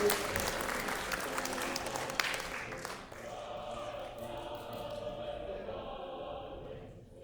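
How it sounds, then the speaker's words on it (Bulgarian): Applause for a ship modelling club and its leader at a Bulgarian contest event, a dense burst of clapping from the audience with speech mixed in, fading slightly after the first few seconds. "Аплодисменти за клуба по корабомоделизъм и техния ръководител господин Асен Иванов."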